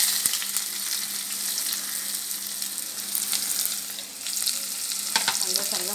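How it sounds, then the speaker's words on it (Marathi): Onion frying in a pan for a drumstick and potato curry, a dense continuous sizzle with occasional stirring scrapes, close and steady throughout, with no talking. "कांदा चांगला फ्राय करायचा,"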